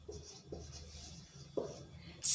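Pen strokes on paper while a formal letter is written by hand, soft scratchy bursts in an uneven rhythm, faint and close, ending with a sharper louder scrape.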